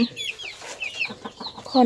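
A young chicken clucks in short, high, chirpy bursts, several quick calls close to the microphone, with a faint voice in the background.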